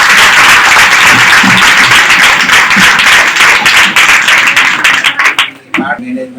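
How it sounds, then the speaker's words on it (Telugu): An audience breaks into loud, sustained applause for ONGC Raju at a local gathering. The clapping fades out near the end as a voice begins. "మరి ఓఎన్జీసీ రాజు గారికి అందరూ బాగా క్లాప్స్ కొట్టాలి."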